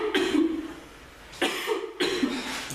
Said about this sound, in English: I just want to cough quickly.